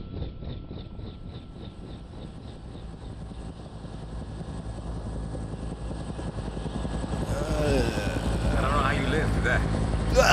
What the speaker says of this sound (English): Hey, helicopter.